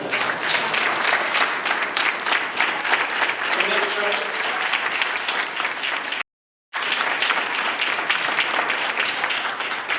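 An audience at a lecture gives a sustained round of applause for a man asked to stand, dense steady clapping from many hands with brief voices mixed in, broken by a short moment of silence partway through.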